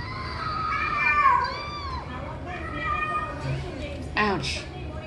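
A cat meows a few times inside GTA gameplay, the mid-pitched cries rising and falling amid game noise and talking voices, with a sharper cry near the end.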